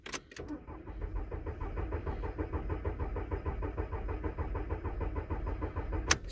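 Three-cylinder car engine cranking on the starter during a compression test, a steady rhythmic chugging for several seconds between short clicks at the start and end.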